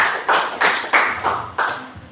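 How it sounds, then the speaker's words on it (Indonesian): A classroom of students claps in unison for a student group, five rhythmic loud synchronized claps spaced evenly, each fading before the next. "Tepuk tangan untuk kelompok 1."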